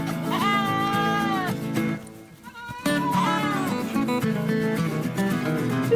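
Several goats bleat loudly and repeatedly up close while children try to separate them, long wavering cries overlapping with scuffling and a pause midway.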